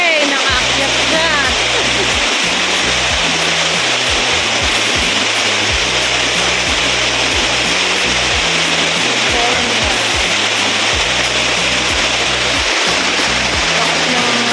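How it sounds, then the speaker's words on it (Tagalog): Diguisit Falls in Baler, Aurora pours with a strong current, a loud, dense, continuous roar of rushing water filling the whole clip while voices speak underneath. "Lakas ng agos ng falls."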